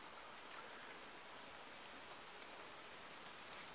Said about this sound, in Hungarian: Kezd esni az eső.